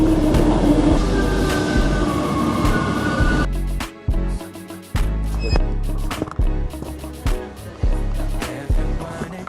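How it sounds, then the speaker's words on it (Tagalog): A train passes close by with a loud rush that gives way to rhythmic clattering and clunks of wheels over rail joints. The rumble holds on through the whole stretch. "here's our train"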